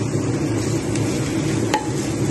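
Garlic frying briefly in a pan for white sauce pasta, a soft steady sizzle with faint stirring clinks, close and alone.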